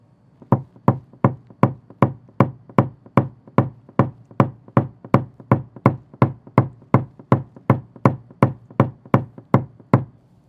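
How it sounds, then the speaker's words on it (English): Sharp knocking taps on a crown around a dent in a white Ram pickup's door during paintless dent repair, about twenty-four evenly spaced hits at a steady rhythm, close and loud with no talking. "knocking that or blending that crown back down will make it look much better"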